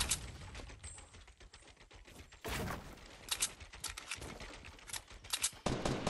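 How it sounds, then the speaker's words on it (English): Gunfire in the video game Fortnite: faint, irregular rapid shots and bursts crackling in close clusters, with scattered sharp cracks among quieter stretches. "I'm shooting people down here"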